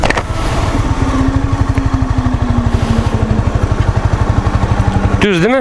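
A motorcycle idles steadily close by at a race track entrance, its pulsing engine note running throughout while a rider speaks briefly over it, with a short rising rev at the end.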